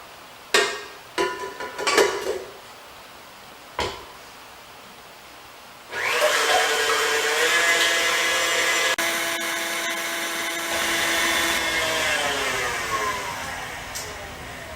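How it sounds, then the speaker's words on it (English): An electric stand mixer whips 18 eggs with a steady, loud mechanical whir. A few sharp clatters come first, then the motor starts and runs continuously, changing pitch slightly as the speed shifts. "I'm going to put this on my mixer. I'm going to mix it for a full 8 minutes"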